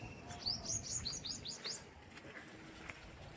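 Small birds chirping near a house: a quick run of bright, high tweets in the first two seconds, then quieter scattered calls over a soft background hiss, with no voices.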